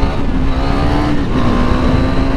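A KTM 390 Duke motorcycle engine revs loud and close as the bike is ridden, its single-cylinder drone holding steady and then climbing slightly in pitch over continuous road noise.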